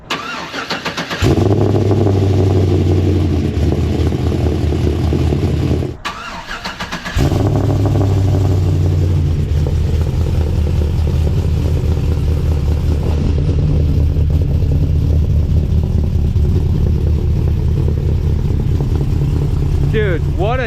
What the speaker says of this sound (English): Let's hit it with a cold start and see if that resonator helped at all.